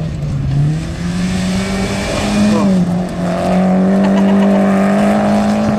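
A Datsun rally car at a rally stage revs hard and holds a loud, sustained engine note with pitch rising and dipping as it pulls, close and dominant with no talk.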